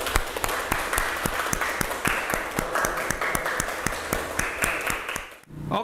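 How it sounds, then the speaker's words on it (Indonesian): Classroom applause in a learning session: a group claps in an irregular, lively patter for several seconds before it fades and breaks off near the end. "Mari kita kasih aplaus untuk kita semua"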